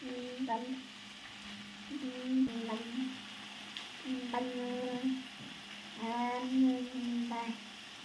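Fish frying in a pan sizzles and crackles steadily at close range, with brief tonal whines rising above the hiss at intervals.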